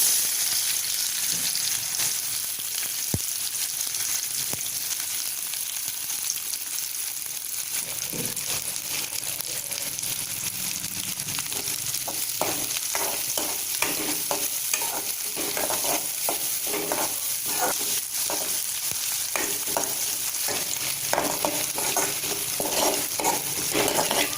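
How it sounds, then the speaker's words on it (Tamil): Small onions fry in hot oil for a mutton kuzhambu, giving a steady, close sizzle throughout with repeated scraping and stirring strokes of a spoon in the pan, and no talking. "இப்போ சின்ன வெங்காயத்தை சேர்த்துறேன்."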